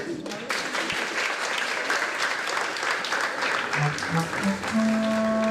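An audience applauds a first assistant named Fadil, a steady wash of clapping that fills the room, with a voice or two and a sustained tone rising near the end.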